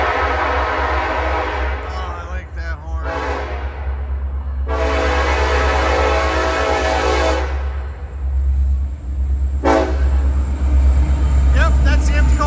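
An empty CSX coal freight train rumbles steadily past nearby, with a low continuous roar and several loud horn blasts sounding over it.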